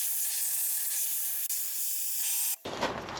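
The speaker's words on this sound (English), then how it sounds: "I'm going to use compressed air and just blow them off" Compressed air hisses steadily as it blows water off golf cart battery terminals on a warm day, a loud continuous jet that cuts off abruptly near the end and is followed by a brief clatter.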